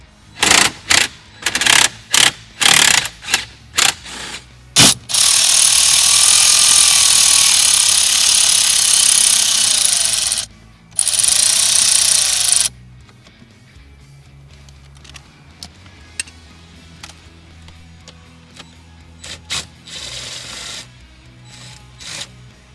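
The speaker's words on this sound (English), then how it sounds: "I want to remove this 10mm bolt on the driver's side" A power tool works on 10mm bolts on the driver's side of a 2016-2019 Lexus RX350 F Sport. It starts with several short, sharp bursts, then runs in a loud, steady whir for about five seconds, gives one more brief run and stops.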